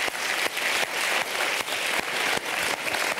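A studio audience on a French TV show applauds loudly and steadily, dense clapping with a few brief dips, no voices over it.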